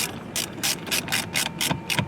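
Ratchet tightening bolts through a base plate into metal J-clips on a 2025-2026 Cadillac Vistiq, about eight quick, close, rhythmic clicking strokes with no voices.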